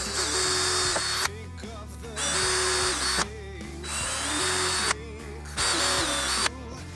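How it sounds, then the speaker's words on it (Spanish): Power drill boring holes in wood for a bunk bed frame: several loud, close bursts of whining motor, each lasting about a second, separated by brief stops and restarts, with no talking. "voy a hacerle los agujeros"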